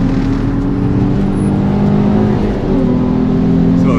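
A car on a driving course is floored under full throttle, its engine roaring loud and close in a steady, sustained pull with no voices.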